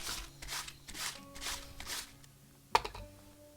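A knife shreds cabbage into thin strips on a cutting board in a quick series of crisp, rhythmic crunching strokes. The cutting pauses and ends with one sharp knock of the blade.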